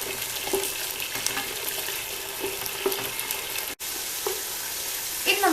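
Chilli chicken sizzles in a pan after soy sauce is added, a steady frying hiss with occasional scrapes and stirs of a utensil, one brief drop-out, then a sharper sizzle burst at the end.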